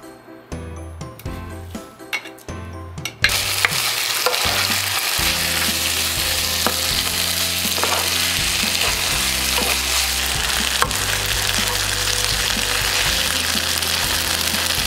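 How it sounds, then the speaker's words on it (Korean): Rice stir-fried with finely chopped kimchi and seaweed in a dakgalbi pan, a steady loud sizzle with scraping and clinking of a spatula stirring throughout, close and continuous. "한 이 정도 남았을 때 밥 볶으면 딱이야"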